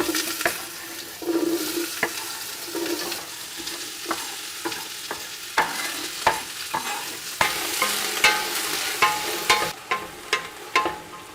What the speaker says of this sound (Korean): 달군 냄비에 올리브유 1큰술을 넣고 양파를 넣어주세요.